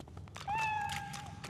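A cat meows once in Divinity: Original Sin 2, a clear, rising and falling in-game mew at close range over quiet game ambience, with faint footsteps nearby.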